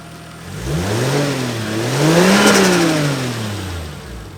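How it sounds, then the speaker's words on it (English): A Subaru car pulling in, its engine revving up and down in smooth rising and falling swells, loud and close, with no voices. "just pulling in the Subaru right now"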